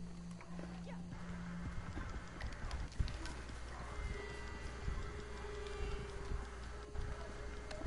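Horse hooves clip-clop steadily in Red Dead Redemption 2 on PS4, a continuous rhythmic trotting close by under a constant ambient wash of the game's wild outdoor setting, with faint talk in the background.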